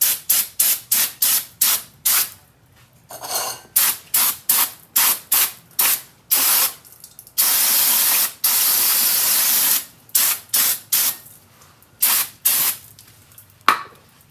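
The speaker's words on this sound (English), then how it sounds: "But I'm gonna spray these pads" Aerosol cleaner is sprayed onto the rear brake pads of a VW bus in short, rapid hissing bursts, close and loud, with a couple of longer continuous sprays in between and no talking.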